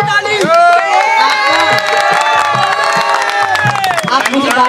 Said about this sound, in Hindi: एक बार बच्ची के लिए जोरदार ताली